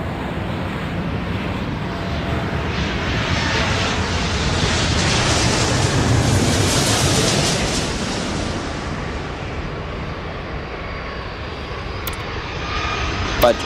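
A jet airliner's engines swell into a loud, rumbling roar as it takes off in an airport control video game, peaking midway, then fading to a lower drone with an air-traffic voice briefly over it.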